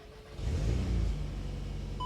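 A fire-damaged, brand-new VW Golf R Mk8 in transport mode starts up. The engine catches with a quick rise, then settles into a steady, close rumble, and a short electronic beep sounds at the end.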